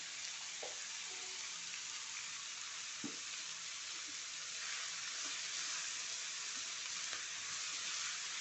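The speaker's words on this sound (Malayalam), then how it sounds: "നന്നായി ഇളക്കി കൊടുത്തിട്ട് ഒന്ന് വഴന്ന് വരട്ടെ" Sliced onions sautéing with salt in a pan for a tomato and peas curry, giving a steady close broadband sizzle with occasional soft scrapes and clicks of stirring throughout.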